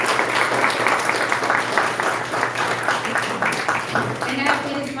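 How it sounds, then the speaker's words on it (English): Applause from a forum audience at a teaching event, a steady wash of clapping with voices murmuring underneath, moderately loud throughout. "Let's give him a big round of applause."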